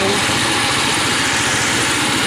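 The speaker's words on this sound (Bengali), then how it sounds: "হোন্ডা GK 270 ধান কাটাই মেশিন, মিনি ছোট পাওয়ার টিলার" A Honda GX270 engine on a mini power tiller runs steadily at a loud, even idle-like rumble, with constant vibration and no pauses.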